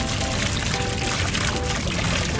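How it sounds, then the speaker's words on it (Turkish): Water sprays onto fires in a firefighter video game as a steady, dense rushing hiss that holds at an even level throughout, with no voices over it. "ateşlerin üzerine su tutuyoruz"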